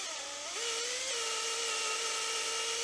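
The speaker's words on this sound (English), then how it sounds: "be very careful, because lead weights do seem to grip hold of the drill bits very tightly" A drill bit bores slowly through a lead fishing weight, producing a steady high whine whose pitch dips and settles as the bit grips, close-up and continuous with no talking.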